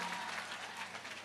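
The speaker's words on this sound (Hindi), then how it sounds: "एपी ग्रुप को जोरदार ताली बजा के धन्यवाद दो।" A crowd at a temple consecration festival in Gurugram applauds in thanks. The clapping is dense and steady, moderately distant and fairly quiet.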